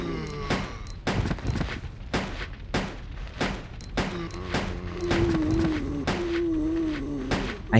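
Repeated handgun shots from Resident Evil Code Veronica on PS2, about a dozen sharp reports spaced irregularly, loud and close, with a steady tonal game background swelling toward the end.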